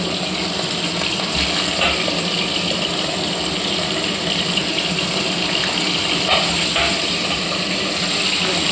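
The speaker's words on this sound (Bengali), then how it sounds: "তেল সম্পূর্ণভাবে গরম হয়ে এসছে। এবার আমি মাছগুলো দিয়ে দেবো এক করে।" Boal fish frying in hot oil in a covered pan, giving a steady, loud, dense sizzle and hiss that runs unbroken throughout.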